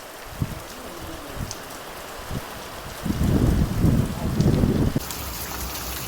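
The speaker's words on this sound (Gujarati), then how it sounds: "વાવણીનો વરસાદ ચાલુ થઈ ગયો હોય એવું વાતાવરણ થઈ ગયું" Heavy unseasonal rain pours down during a village thunderstorm, a steady hiss with scattered drops knocking nearby, then a louder, denser burst of downpour swells for a couple of seconds before settling back to a constant roar.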